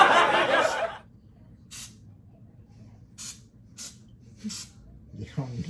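Cooking spray is blasted from an aerosol can in one long hiss at the start, followed by several short spritzes spaced apart. Each spray is close and fairly loud, and a voice comes in at the end.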